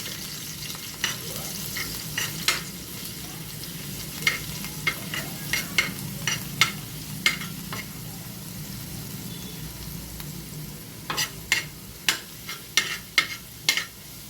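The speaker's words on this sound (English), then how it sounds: "I'm going to stir in till the garlic cooks" Grated garlic fries in a pan for egg bhurji, a soft steady sizzle broken by a run of sharp spatula scrapes and taps that come in bursts, close and with no voices.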